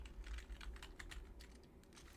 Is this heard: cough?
no